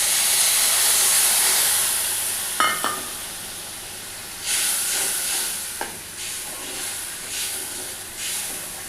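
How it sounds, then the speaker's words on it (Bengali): Water poured into a hot pan of browned ingredients for a Bengali fish curry hisses and sizzles steadily, with a few brief clinks and stirring bursts partway through; no one speaks. "তো আমি অল্প করে জল ঢেলে দিলাম।"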